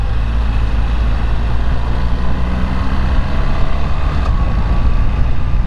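A BMW R1300RT motorcycle engine drones steadily while riding, a continuous low rumble blended with road and wind rush, loud and close with no talking.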